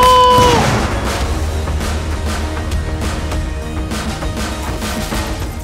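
A deep, heavy boom from a large-scale explosion at a bomb squad training event, with a long rumbling decay that slowly fades, heard alone with no voices.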